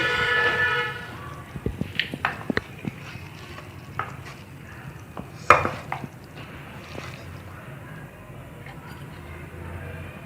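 Homemade spicy dum kabab being served from the pot into a dish, with scattered clinks and scrapes of a spoon against cookware, one sharper knock midway, over a low steady kitchen hum.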